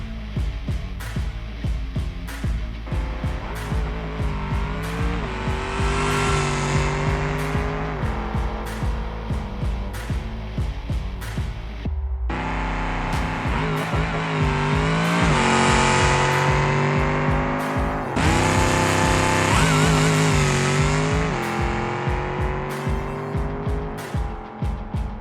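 A Gavril Roamer drag car in the BeamNG racing game roars down the strip, its engine revving loudly through rising gear pulls with a brief shift break midway, continuous and close with no talking.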